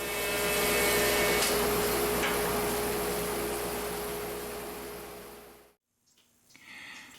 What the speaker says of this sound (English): so I'm going to use the bandsaw here for this.